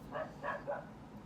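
A dog barks three times in quick succession outdoors, faint and somewhat distant over a low background hum.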